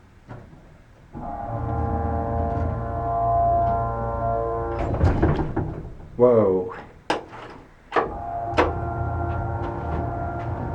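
A 1950s Esco hydraulic elevator motor hums steadily up close, with a tonal drone broken midway by clunks and a short exclamation, then resuming.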